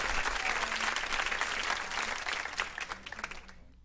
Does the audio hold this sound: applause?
yes